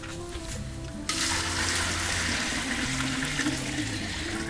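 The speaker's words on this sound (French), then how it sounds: "Donc vous y ajoutez assez d'eau." Water poured steadily into a large cooking pot, a continuous rushing gush that starts abruptly after about a second and runs loud and unbroken to the end, with no talk.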